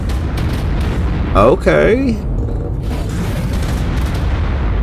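Booming bombardment explosions in the Ark video game, a steady rumbling barrage throughout, with a voice briefly talking over it mid-clip.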